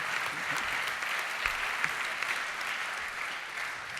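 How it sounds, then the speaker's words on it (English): An audience at a startup competition final applauds a jury member being introduced, warm continuous clapping with a few sharper individual claps standing out near the front. "Round of applause, please."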